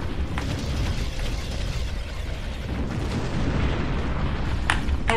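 An enemy hoverdyne unit explodes in the real-time strategy game Ground Control, with dense, rumbling low-end blast noise that stays loud throughout and a couple of sharp bright crackles near the end.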